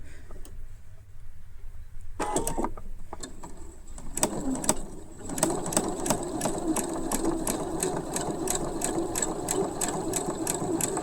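Close, steady whirring of a sewing machine sewing a French seam on a child's dress of flat woven fabric. A few short stops and starts come first, then a continuous rhythmic run at an even pace.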